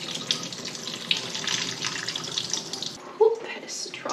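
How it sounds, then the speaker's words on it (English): Liquid poured out of a jar of fermented Tabasco peppers, a steady close splashing stream running for about three seconds before it tapers off, followed by a brief clink and faint handling. "I wanna pour out all the liquid."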